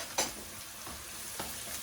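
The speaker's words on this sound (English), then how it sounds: "we're going to saute the garlic with the onion" Chopped garlic and onions sizzling steadily in hot oil in a pan for a chicken curry, with a couple of stirring scrapes over a constant frying hiss and no talking.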